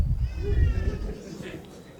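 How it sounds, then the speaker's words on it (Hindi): A cat meows in a few drawn-out wavering cries, heard close and mixed in with someone speaking Hindi in a talk setting. "वो म्याऊं म्याऊं कर रही है"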